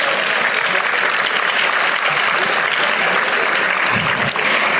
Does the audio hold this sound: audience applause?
yes